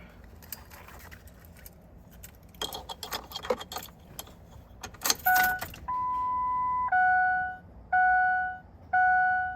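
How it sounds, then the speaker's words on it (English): Keys jangle in bursts inside a 2002 Ford F250 7.3 Powerstroke truck, followed by a steady repeating chime from the cab, close and fairly loud. "Grab my keys here, hold on here."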